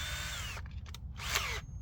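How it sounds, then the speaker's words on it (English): A power drill fitted with a hole saw whines loudly in two short bursts, its pitch dropping under load as it bites, with a brief pause between runs. "So to do this, I need a hole saw."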